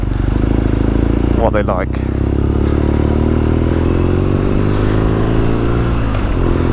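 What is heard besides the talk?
BMW R nine T Scrambler 2020 motorcycle engine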